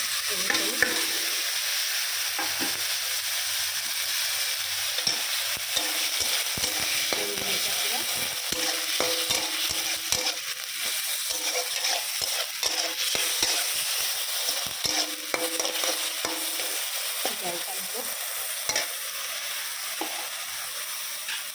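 Ginger, cumin and potato paste frying in a pan for aloo paratha filling, a steady close sizzle with frequent clinks and scrapes of a stirring spoon throughout, and a faint voice now and then.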